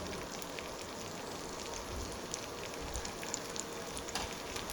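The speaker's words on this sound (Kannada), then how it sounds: "ಮಸಾಲೆ ಜೊತೆ ಫ್ರೈ ಆಗ್ತಾ ಉಂಟು ಈಗ ಫಿಶ್" Fish coated in masala fries in a pan, giving a steady, soft, continuous sizzle with fine crackling pops throughout and no voices.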